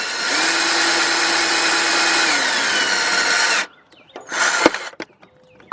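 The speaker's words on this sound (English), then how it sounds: "I'm gonna drill just a little bit more." A power drill whines steadily for several seconds while boring into metal on a 2005 Nissan Pathfinder's right front catalytic converter, then stops, followed by a few scraping and clinking handling sounds.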